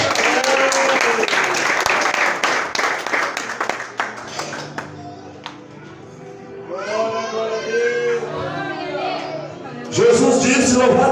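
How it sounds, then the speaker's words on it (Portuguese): A church congregation at a revival service applauds, clapping mixed with crowd noise at the start, then a voice speaks and the clapping swells again near the end. "E as palmas para Jesus."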